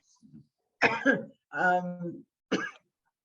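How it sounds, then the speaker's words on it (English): A person with a COVID cough coughs a few times in quick short bursts, close and fairly quiet, with a brief throaty sound between them. "I'm having a little COVID cough here, so apologies."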